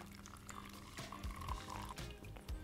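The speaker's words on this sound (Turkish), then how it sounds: "Karışımımızı yavaş yavaş bezin üzerine döküyoruz." A homemade oat milk mixture is poured slowly onto a cheesecloth to strain it. There is a soft, close liquid trickle and splash for a couple of seconds, with no talking.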